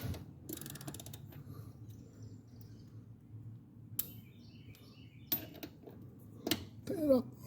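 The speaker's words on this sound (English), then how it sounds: "got it hand tightened now, and just tighten it up. It's the 21 millimeter socket." A 21 mm socket wrench tightens the gear oil drain bolt on a 2020 Suzuki Boulevard C50T motorcycle. Sparse metallic ratchet clicks and short bursts of mechanical rasping come over a low background rumble, close and moderately loud.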